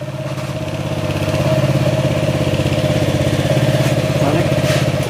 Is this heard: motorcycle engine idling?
yes